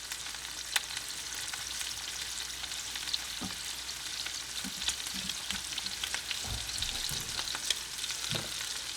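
Garlic butter shrimp frying in a hot pan with a steady crackling sizzle and occasional soft clinks and bumps as the pieces are flipped, heard close up with no voices.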